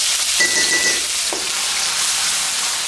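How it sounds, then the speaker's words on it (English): Garlic, jalapeno and red chilies stir-fried on low heat in a pan, with a continuous close sizzle, a brief tonal squeak early on and a light utensil scrape partway through. "Just stir fry these ingredients on low heat."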